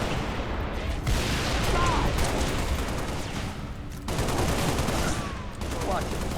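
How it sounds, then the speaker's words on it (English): Loud, sustained battle noise in Halo: Reach with a Wraith mortar firing among it, heavy booming blasts and continuous gunfire washing together, with two sharp surges where new volleys start, and voices faintly under the din. "See a Wraith mortar coming my way."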